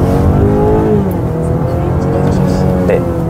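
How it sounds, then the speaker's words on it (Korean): A BMW X3 20i M Pro accelerates hard to about 80 km/h and then brakes sharply, its engine droning loud and steady from inside the cabin, with a faint tire squeal near the end and someone talking over it. "지금 제가 급 가속을 해서 브레이크 밟을 때 차체가 어떻게 움직이는지 한번 카메라상으로 느껴보도록 하겠습니다."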